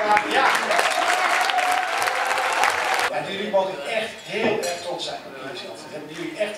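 A room full of people at a municipal hall celebration for Special Olympics athletes claps in a dense burst of applause that stops abruptly, followed by murmuring voices and clinking dishes and cutlery.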